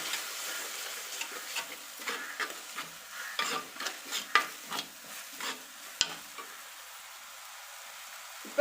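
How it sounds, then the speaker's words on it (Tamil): Small onions sautéing in a pan for a fish curry, with steady sizzling broken by repeated stirring clatters and scrapes that come close and fairly loud, fading to a quieter sizzle near the end. "இப்போ இது வெங்காயம் நல்லா பச்சை வாசனை போக நல்லா வதக்கி எடுத்துக்கலாம்."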